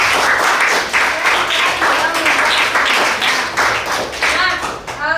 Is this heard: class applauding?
yes